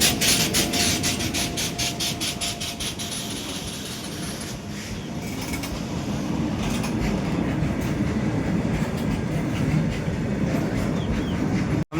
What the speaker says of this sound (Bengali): বন্ধুরা এটা কিন্তু কয়লা নিয়ে গাড়িটা আসছে। এখানে শুধু কয়লার গাড়ি